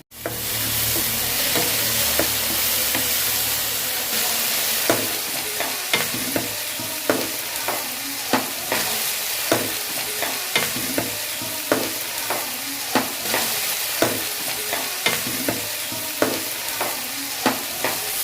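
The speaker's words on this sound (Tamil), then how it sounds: "இதெல்லாம் நல்லா வதங்கட்டும்" Tomatoes, onions and garlic sauté in a pan with a steady, close sizzle, broken by regular clicks and scrapes of a utensil stirring them, with no talking.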